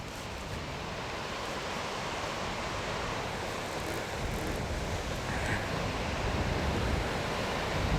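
Strong wind buffets the microphone in a continuous, loud rushing roar outdoors, steady with slight swells and no voices.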